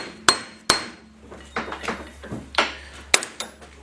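A hammer taps at a vise while connecting rods are being resized, giving about eight sharp metallic knocks at an uneven pace, the first two and a later one loudest, close by in a quiet workshop.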